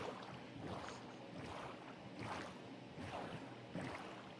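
Rhythmic whooshing splashes of oars pulling a birch boat through water in Minecraft, about five strokes in steady succession, with a soft wash of water between them.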